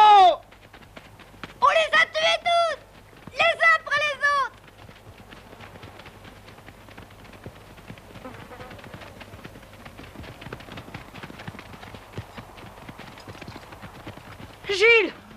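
Horses' hooves clip-clopping in a steady rhythm through the middle, with voices speaking loudly at the start and briefly at the end.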